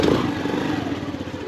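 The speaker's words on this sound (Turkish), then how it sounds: "Bunu havaya alıp arkadan ayak marşıyla çalıştırdığında çalışıyor." A motorcycle with a faulty starter, kick-started with the bike up on its stand, its engine chugging loudly and steadily at close range in a short burst.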